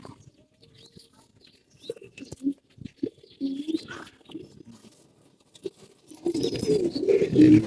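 Pigeons in a loft make soft scattered coos, flutters and pattering movements, quiet at first and then louder and busier near the end, with no talk.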